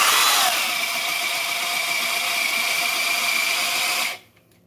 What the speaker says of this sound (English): that old drill has old brushes, needs a new power cord